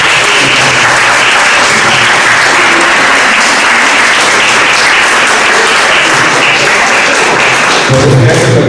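Loud, sustained audience applause at the end of a talk at a Cafés Alegres gathering, dense crowd clapping that fills the whole stretch without a break.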